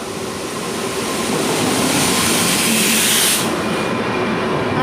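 A train on the Ernakulam–Thiruvananthapuram route arrives, a loud, close, steady roar of rolling wagons that swells and holds, with hissing wheel noise and no voices.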